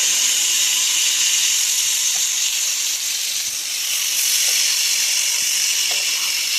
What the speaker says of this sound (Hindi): बिल्कुल जो मीडियम लो हीट है आपने उस पर इसको पकाना और इसको आपने फ्राई करना है कुकिंग ऑयल में।